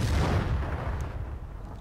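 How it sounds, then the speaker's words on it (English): Bazooka fire in the World War II shooter Battlefield 1942, heard as one loud, close boom with a rumbling blast that fades out over about two seconds. "An AI used a freaking bazooka against"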